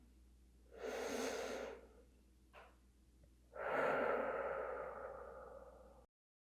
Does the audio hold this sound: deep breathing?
yes